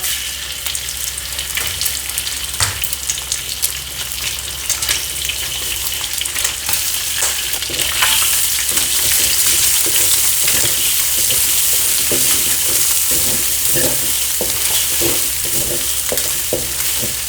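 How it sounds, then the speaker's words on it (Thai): Eggs sizzle loudly in a hot pan just after frying garlic, a continuous crackling hiss that swells midway, with occasional spatula scrapes and light clinks. "นี่กระทะร้อนเร็วนะคะ กระเทียมเสร็จปุ๊บก็ตามด้วยไข่เลยนะคะ"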